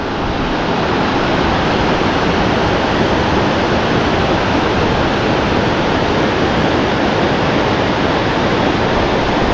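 Clear river water at Lablabasan River in Gregorio Del Pilar, Ilocos Sur rushes steadily and loudly, a dense unbroken roar filling the scene with no voices.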